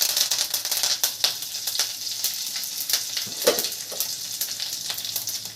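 Curry leaves and a whole dried red chilli crackling in hot oil for an okra stir-fry, a loud close burst of rapid spitting pops and sizzle throughout.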